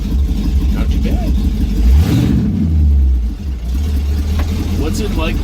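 A Ford Pinto wagon engine revs and drones steadily while driving, rising in pitch around the midpoint, with someone talking over the low engine hum throughout.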